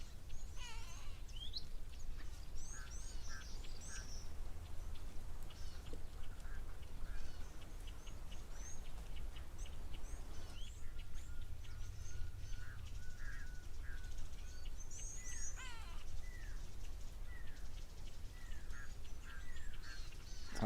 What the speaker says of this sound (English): Sounds like a pearl-spotted owlet in the background. There's a great go-away bird that was just calling.